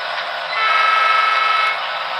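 A model train gives off a loud, steady horn-like tone that swells briefly in the middle, close by, with no voices.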